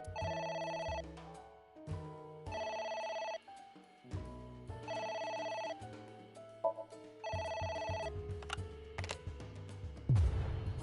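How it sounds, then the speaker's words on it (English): A telephone rings in a video game, four loud bursts of repeated bell trills with short gaps between them, set over a steady background music bed and a few clicks. "A phone."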